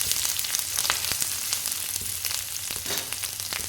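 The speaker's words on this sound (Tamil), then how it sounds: "சேர்த்து நல்லா கலர் சேஞ்ச் ஆகிற அளவுக்கு நல்லா இதை வதக்கி விட்டுக்கலாம்." Onion, ginger and garlic fry in a pan with dried red chillies and curry leaves, giving a steady, close sizzle with scattered crackles and pops throughout, no voices.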